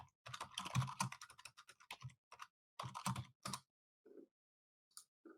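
Bursts of computer keyboard typing, quick clustered keystrokes in several short runs separated by pauses, close and fairly quiet, with no talking.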